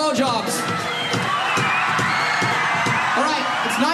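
A live concert crowd cheers and whoops loudly and continuously, many voices shouting together close to the stage, with a performer's voice mixed in.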